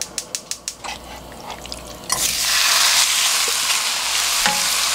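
Duck bulgogi in gochujang sauce hits a hot pan over high heat, opening with a few sharp clinks before a loud, steady sizzle that swells and holds as the meat is stir-fried, with occasional utensil scrapes.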